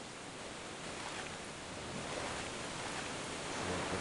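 Waterfall in the video game Gothic, a steady broadband rushing roar heard alone at low level, even and unbroken throughout.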